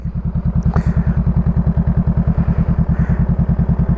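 A motorcycle engine idles steadily at close range during clutch control practice, a fast, even thumping pulse running throughout with a faint brief click partway through.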